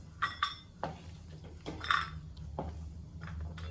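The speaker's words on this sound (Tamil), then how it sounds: "இப்போ இதை ஒரு பவுலில் எடுத்து வச்சுக்கலாம்." Fried pearl millet being tipped from a pan into a bowl in a home kitchen, with a handful of short metallic clinks and scrapes spaced irregularly, close and fairly light.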